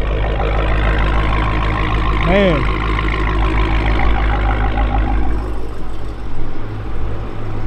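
Widebody Hellcat Charger idling loud and steady, a deep constant rumble running throughout, with someone talking briefly over it.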